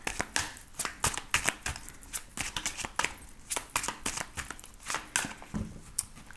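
Tarot cards being shuffled and cut by hand, a rapid run of crisp riffling flutters and soft slaps repeating throughout, close and fairly quiet with no talking.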